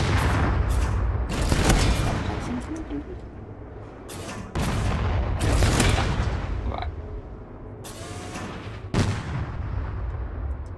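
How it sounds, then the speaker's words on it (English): Explosions blowing a window open in Resident Evil's Raccoon City, several heavy booms and blasts in separate bursts with rumbling decay, and a voice speaks briefly between them. "We'll blow the window open."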